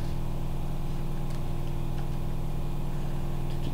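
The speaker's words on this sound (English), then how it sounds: "Apologies if you can hear my washing machine spinning in the background." Steady loud mechanical drone of a washing machine on its spin cycle in a nearby room, a continuous low hum and rumble with no breaks.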